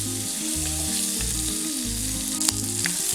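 Small onions sauté in oil for a Kerala-style prawn, mango and drumstick curry, giving a continuous close sizzle with a brief scrape of stirring and tonal sounds playing faintly behind.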